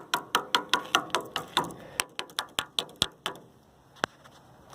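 Rapid series of sharp knocks on the housing of an evaporative cooler to shake debris loose inside, about twenty hard hollow raps in quick succession, close and loud, slowing to a few isolated hits at the end.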